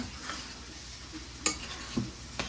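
Melting food in a pot gets stirred, a faint, low sizzle with a few soft scrapes and light clicks of the utensil against the pot.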